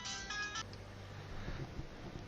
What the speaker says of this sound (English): Oh, sorry about that. Phone calls.